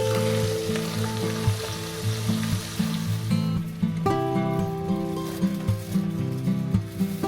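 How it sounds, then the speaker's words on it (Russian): Meat with onion and carrot sizzles and fries steadily in a pan, loud and close, with a constant hiss and a few soft stirring scrapes. "Мясо с луком, с морковкой тушится, жарится."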